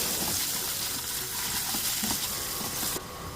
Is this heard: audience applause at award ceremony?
no